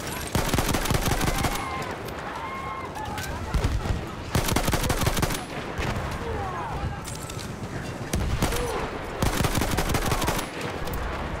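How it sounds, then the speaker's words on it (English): Incoming mortar fire and gunfire in Battlefield 1 at Verdun 1916, dense bursts of rapid shots and blasts in several waves, with clattering footsteps and shouted voices in the mix. "Oh, now these mortars are coming in again."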